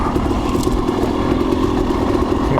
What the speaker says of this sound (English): keep the bike running.